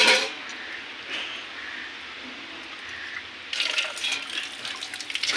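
Water runs from a rooftop tap being collected for a puja, a steady soft hiss that grows louder and splashier partway through, with a faint car horn in the distance.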